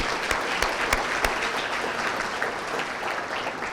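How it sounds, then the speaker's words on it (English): Indoor audience applauding at a college foundation's annual dinner, steady hand clapping from a room of diners that holds evenly for several seconds with a few sharper claps standing out. "let's give her a big round of applause for this fine meal"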